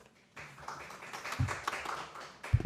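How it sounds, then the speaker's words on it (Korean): At an internet governance forum session, the audience welcomes the panelists with light, scattered clapping. It starts after a short quiet and stays thin and uneven, with a few louder claps near the end. "모두 큰 박수로 맞아주세요."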